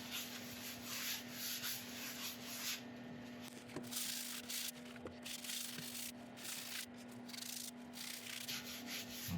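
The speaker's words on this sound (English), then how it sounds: "Give this a good rub in." Abrasive paste being rubbed into a turned wooden bowl of monkey puzzle tree wood, a steady close scratchy friction that runs throughout with slight surges, no talking.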